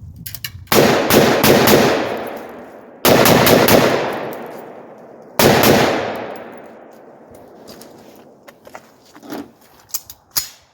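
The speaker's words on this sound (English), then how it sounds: "For comparison, I'm now going to fire the 13-inch with the tack fire linear comp." Three loud rifle shots from a 13-inch barrel fitted with a TACFIRE linear compensator, fired outdoors at night, each sharp crack followed by a long rolling echo, then faint clicks and handling noises.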